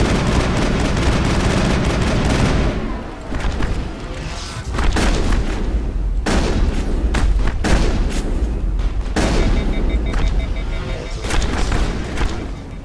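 Assault rifle fire in the video game Mass Effect on the Eden Prime level, rapid bursts of loud gunshots with booming impacts, pausing briefly around the middle before resuming in dense volleys.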